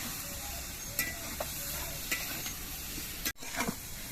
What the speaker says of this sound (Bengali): সোয়াবিন দিয়ে আলু দিয়ে কষানোর সময় এর মধ্যে কয়েকটা চেরা কাঁচা লঙ্কা দিয়ে দিচ্ছি